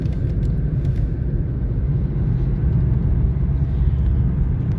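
A Renault 11 GTL 1.4 engine rumbles steadily while driving, a low, muffled drone heard from inside the car, fairly loud and even with slight swells, no voices.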